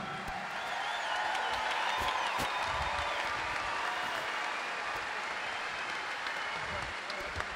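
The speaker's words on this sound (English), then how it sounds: "Big round of applause for a huge company." Sustained applause from a large arena crowd of about ten thousand at a strongman show, loud and steady throughout with scattered whoops rising above the clapping.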